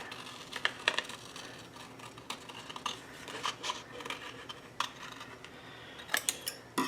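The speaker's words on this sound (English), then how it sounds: "we're going to cut that notch out" Scissors snipping a notch out of paper for a handmade mini album, a run of small crisp clicks and snips with brief pauses, close up and fairly quiet.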